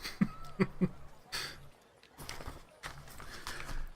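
Horse hooves clip-clopping as a sound effect for a fantasy tabletop game, a few sharp hoof strikes at the start followed by softer scattered thuds, fairly quiet and close.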